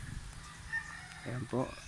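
A rooster, a gamecock being readied for a fight, crows in a brief rough burst near the end, with faint background noise before it.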